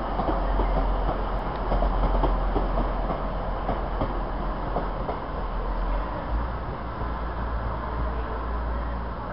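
A Class 185 passenger train rolls past on the railway with a loud, steady roar and rumble and faint rhythmic clicks, continuous throughout with no voices.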